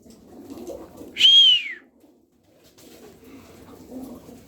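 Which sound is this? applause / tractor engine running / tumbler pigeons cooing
tumbler pigeons cooing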